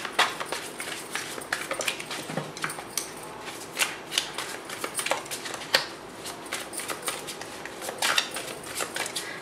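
Repeated crisp riffling and soft slaps of tarot cards being shuffled, close by, in uneven bursts with no talking.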